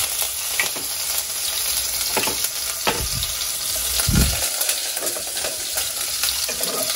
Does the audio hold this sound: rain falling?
no